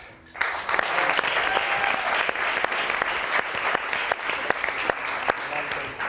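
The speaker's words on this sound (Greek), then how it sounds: "Εγώ λέω να χειροκροτήσουμε τους Ολυμπιονίκες μας στο Ρίο." A TV studio audience breaks into loud applause after a brief quiet start, with sharp individual claps cutting through a full, sustained wash of clapping that continues to the end.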